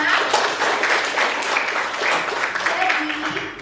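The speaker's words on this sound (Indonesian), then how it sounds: "Tepuk tangan dulu untuk Mbak Viana." A classroom audience claps for a student's correct answer in an accounting lesson, a steady, full burst of applause throughout with some voices mixed in underneath.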